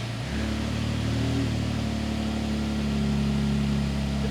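A Toyota Tundra V6 pickup with a straight-pipe exhaust runs steadily, a loud, close, even engine drone with a low, constant rumble.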